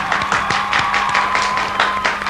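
An audience applauds at a 1996 show, a dense, even wash of clapping hands filling the whole short stretch with a few sharper individual claps standing out.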